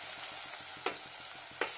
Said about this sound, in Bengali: ফুলকপি ভাজা যায় ভালো